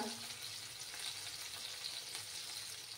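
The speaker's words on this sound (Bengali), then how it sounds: "আরও কিছুক্ষণ আমি মাছগুলো একটু ভেজে নেব" Katla fish frying in oil in a kitchen pan for a Bengali fish curry, giving a steady, fairly quiet crackling sizzle that holds evenly throughout, with no talking.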